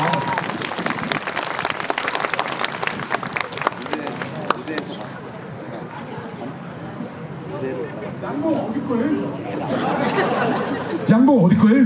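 Steady audience applause at a vocal concert rattles at first, then fades into crowd murmur and a voice speaking, with clapping swelling again near the end.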